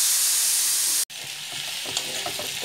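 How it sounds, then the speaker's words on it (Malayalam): Onions sizzle and fry in a hot pan during preparation of Malabar beef pathiri, a loud steady hiss with a brief break, then crackling and stirring. "ഉള്ളി ഒന്ന് നമുക്ക് വഴറ്റിയെടുക്കാം."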